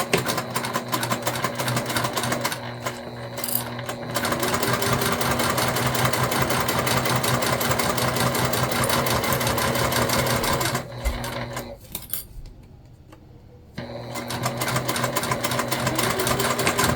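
A sewing machine stitches a seam on a crossbody bag at an eighth-inch allowance, running loud and close in a steady fast whir, pausing briefly twice before starting up again.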